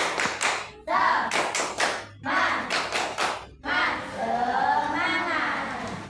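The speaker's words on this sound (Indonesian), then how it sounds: "Tepuk semangat" Classroom of schoolchildren doing a rhythmic spirit clap in bursts of quick, loud claps with pauses between, voices chanting along and a teacher talking toward the end.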